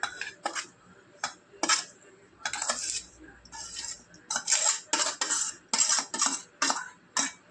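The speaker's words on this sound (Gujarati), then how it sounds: "હવે આને છે ને સરસ આપણે મિક્સ કરી લેશું બધાને" Three eggs being mixed with salt, onion, chilli, coriander and crushed red chilli in a bowl, a spoon clinking and scraping against the dish in rapid bursts, close and fairly loud, with brief pauses between strokes.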